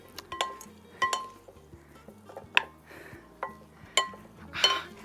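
Roasted corn salsa ingredients tossed and mixed in a bowl, a utensil striking the bowl in a string of irregular, sharp clinks and scrapes, close and moderately loud, with no talking.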